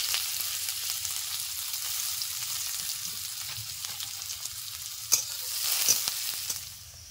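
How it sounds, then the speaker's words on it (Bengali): Chopped onion hits hot oil in a pan and keeps up a steady close sizzle, with a few brief stirring scrapes near the end and no talking. "তেল গরম হয়ে গেছে, দিয়ে দিচ্ছি পেঁয়াজ কুচি।"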